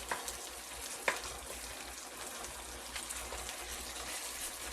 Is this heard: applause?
no